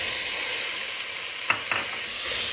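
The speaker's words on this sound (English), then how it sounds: "The onion has started turning light brown. We can add the tomatoes." Onion, ginger and garlic sautéing in a pan for a potato-tomato curry, a steady close sizzle with two quick stirring scrapes in the middle.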